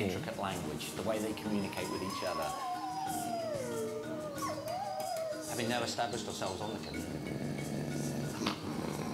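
Wolves howl in long wavering, rising and falling calls over a noisy backdrop, while human voices join in imitating the howls, with talk running throughout.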